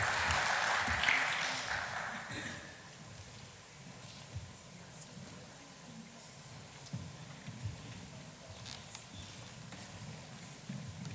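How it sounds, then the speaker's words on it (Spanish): Applause from an auditorium audience rises briefly at the start, then thins into scattered faint claps and shuffling room noise at a low level. "Les damos un fuerte aplauso para recibirlos"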